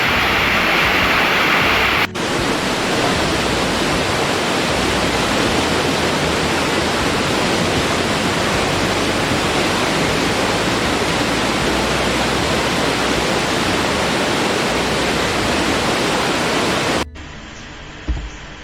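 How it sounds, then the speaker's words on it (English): Steady, loud rushing roar of a waterfall, constant and dense, cutting off abruptly near the end to a quieter hiss. "water falling from a height."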